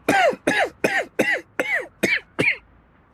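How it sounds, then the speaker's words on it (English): A person coughs seven times in a steady, evenly spaced run, each cough sharp and close, with nothing else heard between them. "you should really see a doctor if that cough continues"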